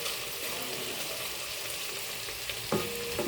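Chicken wings, cut in half, fry in a pan with a steady dense sizzle and crackle, a few sharper spatters and clinks near the end as they are stirred.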